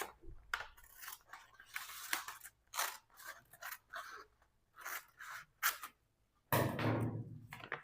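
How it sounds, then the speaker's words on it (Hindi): Scissors snip through a paper sheet forming the curved surface of a cylinder model, a run of short crisp cuts with brief pauses, close and clear, ending in a longer rasping slice. "यानी ये सिलेंडर का कर्व्ड सरफेस को मैं काट देता हूं"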